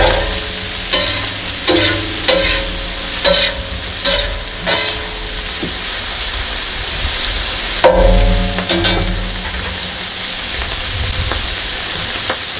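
Bacon fries on a Muurikka griddle with a loud, steady sizzle, broken by repeated scraping and stirring clatters of a utensil against the pan in the first few seconds and again midway.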